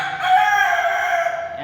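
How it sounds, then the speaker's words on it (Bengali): Several roosters from a backyard poultry flock crow at once, a loud, dense overlap of calls held steadily throughout, with no voices. "একটা মোরগ ডাকে না, একসাথে সবাই ডাকে।"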